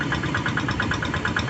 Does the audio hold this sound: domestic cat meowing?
no